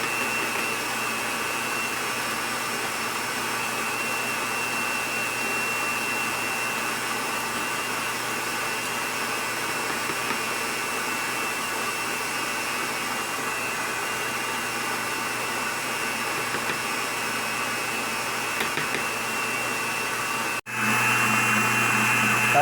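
An electric stand mixer whirs continuously while beating whipped cream (chantilly), a steady close motor drone that cuts off briefly near the end before starting again.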